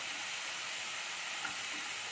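A constant, even sizzling hiss of peas and vegetables stir-frying in a pan, close and steady throughout, with no voices.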